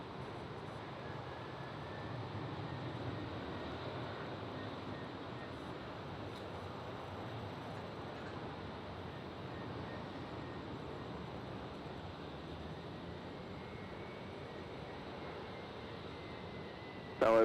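A Delta airliner takes off from runway 19 right at Tampa International Airport, its engines a steady, distant roar that holds evenly throughout with no voices.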